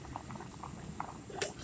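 A pot of pork cartilage soup at a rolling boil, with faint bubbling and patter and a brief sharper splash near the end, quiet and without talk.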